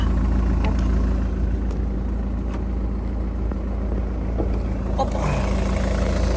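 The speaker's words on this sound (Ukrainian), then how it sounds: "Ось так працює двигун у нас. Ніяких лишніх звуків немає, все добре." A 2014 Ford Kuga AWD with a 2.0 TDI diesel idles with the hood open, a steady low engine drone close by that holds evenly throughout, with a few faint clicks and a brief rise near the end.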